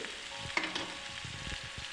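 Pork steaks sizzling steadily in a pan while a utensil stirs and scrapes through them, a few clinks and scrapes over the hiss.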